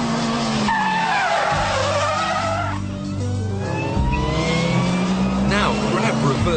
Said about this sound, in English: You must build up your speed before flicking the steering wheel and then pulling on the handbrake.